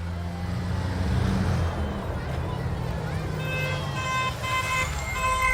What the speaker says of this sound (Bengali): আরে কে হর্ন দিচ্ছে?